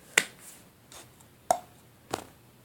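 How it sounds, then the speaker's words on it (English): A cups song rhythm with a plastic cup picked up, struck against a hand and knocked on a table, giving four sharp, separate taps and claps spaced in a steady pattern, close and clear with no talking. "you're going to pick it up, hit it against your hand, and you're going to hit the bottom to the table"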